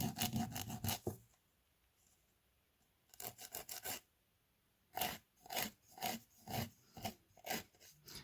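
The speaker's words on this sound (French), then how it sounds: "vous allez limer vos ongles à la forme que vous souhaitez" A 100/180 nail file rasps across fingernails in close, quiet strokes: a quick series of rubs, a pause, another run, then a second pause and a steady, rhythmic set of back-and-forth strokes.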